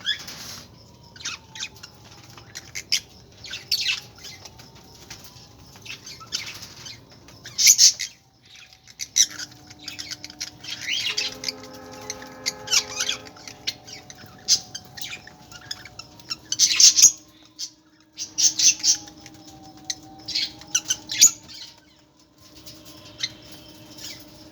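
A pet bird feeding in its cage, with near, repeated pecking and scratching patters, short chirps and squawks, and brief bursts of wing flapping scattered through a steady, moderately loud stretch with no talk.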